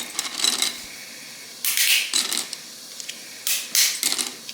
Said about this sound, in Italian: il bello di questo formato è che dovete spezzettarlo a mano e fa una bella